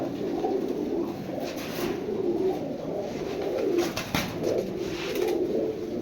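A flock of pigeons kept for sale, including Silver Racers, cooing continuously at close range, overlapping low throaty coos rolling on without any talk.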